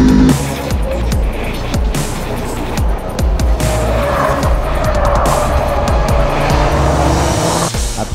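Race cars in the Lamera Cup at the Jarama circuit roar off the start together, a loud dense wash of engines with tire squeal and skidding over a steady, continuous roar throughout.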